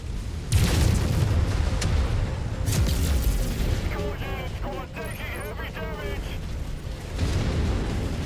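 A missile explosion in the mech combat game Mechwarrior 5: Mercenaries lands as a loud, sustained rumbling boom with crackling debris and mechanical clatter, dense and continuous over the full stretch of battle noise.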